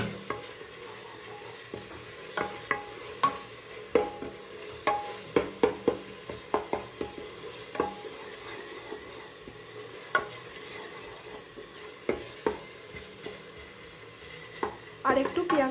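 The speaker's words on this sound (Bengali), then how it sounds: "আর একটু পেঁয়াজটা ভাজা হবে" Onions and garlic fry in a pan, a soft continuous sizzle broken by repeated sharp scrapes and knocks of a spoon stirring, close and fairly quiet with no talking.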